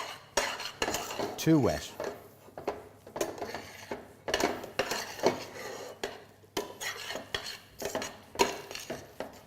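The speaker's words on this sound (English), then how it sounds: "So I'll just scoop out the scallions and the leeks here." Spoon scrapes and clinks against a pot while scooping and stirring scallions, leeks, potatoes and milk for champ, giving repeated close knocks and scrapes with a brief spoken comment.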